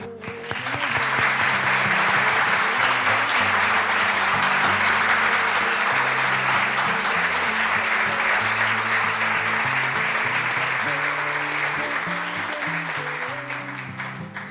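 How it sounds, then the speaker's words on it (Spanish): A church congregation applauding as an offering of praise, long steady clapping with a musical backing of held tones beneath, swelling in and tapering off gently at the end. "con todos mis hermanos le ofrecemos esta ofrenda de palmas a Papito Dios, que se lo merece"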